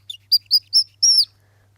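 Bird call lures used in a children's show imitate birdsong with a sequence of four or five short, bright chirps in a steady rhythm, clear and close against near silence.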